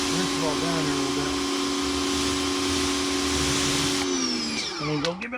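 A Greenworks 1800 psi pressure washer spraying a light rinse, giving a steady close-up motor whine and hissing spray that runs continuously, then dips and shifts pitch near the end.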